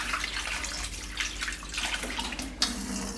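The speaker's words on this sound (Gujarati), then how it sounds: "આ ચોખા છે એને આપણે 2 થી 3 પાણીએ ધોઈ નાખશું" Rice dusted with powder is washed in water at a kitchen sink, making a continuous splashing rush with swishing surges and a sharp clatter near the end, heard alone without talk.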